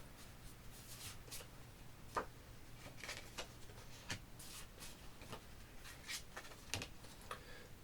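Tarot cards being drawn and shuffled in a quiet room, giving soft, irregular close-up taps and papery slides scattered throughout, with no talking.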